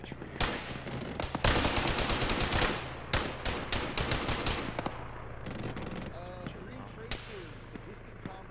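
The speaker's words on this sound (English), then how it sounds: "I'm just shooting" Heavy gunfire in the ArmA military game during a squad assault on a village, with dense bursts of automatic fire and scattered single shots, loud and sustained, while players talk over radio.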